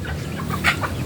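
Chickens cluck in short, scattered calls close by, one sharper cackle breaking through over faint farmyard background.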